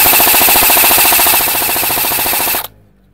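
An E&C G28 airsoft AEG rifle fires a loud, close, continuous full-auto burst, a rapid even mechanical rattle that cuts off abruptly near the end.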